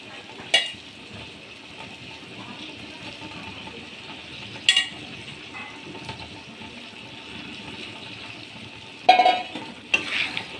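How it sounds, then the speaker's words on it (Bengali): Bengali fish curry is gently stirred in a frying pan, with a soft steady simmering sizzle and a few sharp clinks of a utensil against the pan. "অল্প একটু হালকা হাতে নেড়ে তো ঢাকা দিয়ে রেখে দিলাম"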